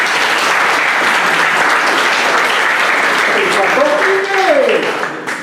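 Guests at a traditional wedding ceremony clap together in loud, sustained applause that fills the room, with a few voices rising under the clapping near the end before it fades.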